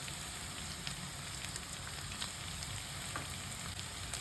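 Grated garlic and dried chili frying in hot oil for a butter bean dish, a steady close sizzle with faint crackles and no talking.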